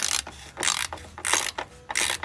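Ratchet wrench working a bolt loose during car repair, four or five rasping ratchet strokes in a steady back-and-forth rhythm, close and fairly loud.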